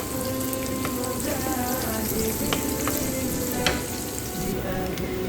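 Chopped red onion fries in hot oil in a pan with a steady, close crackling sizzle, broken by occasional stirring clinks.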